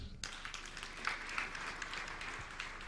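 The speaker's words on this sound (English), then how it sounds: "Let's clap for the band." An audience in Nairobi at a national sports career fair and symposium bursts into applause for a band, starting abruptly and continuing as steady, moderately distant clapping from many hands.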